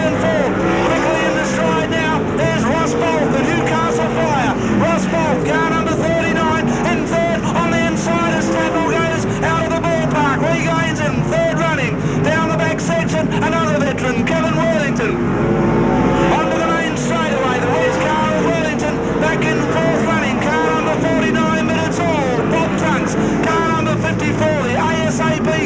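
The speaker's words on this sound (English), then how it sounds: "Heat 3 of the sprint cars at PCR and racing for Stallion Stables." Sprint cars racing at speed on a speedway track in a 1986 heat at PCR, engines droning loudly and continuously throughout, with a race commentator talking over the steady roar.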